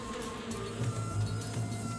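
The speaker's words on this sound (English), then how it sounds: "Goddamn bees." A brief, steady insect drone from swarming bees in the video game Shadow of Rome, with a low buzzing hum that wavers faintly and no voices.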